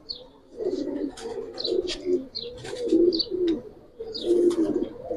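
Giribaz pigeons in a loft give repeated soft, throaty coos in rolling phrases, close by, with occasional higher chirps and faint rustling between calls.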